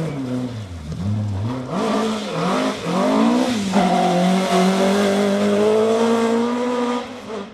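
Ford Escort rally car racing on a Mid Wales forest stage, its engine revving hard up and down through gear changes, then settling into a sustained loud high-revving pull with some tire noise.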